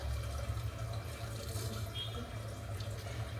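Tap water runs steadily into a water bottle in a home kitchen, a constant close rushing flow with a low rumble throughout.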